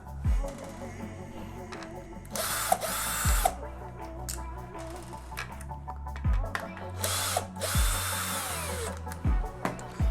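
Power drill spinning out T10 bolts from BMW M235i interior trim, several short whirring bursts with clicks and clatter of parts between them, close and fairly quiet.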